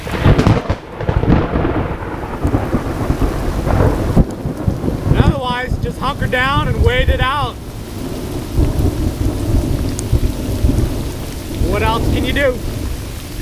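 Heavy summer thunderstorm over mangroves: warm rain pours steadily while deep thunder rumbles and cracks, and someone speaks briefly over the downpour.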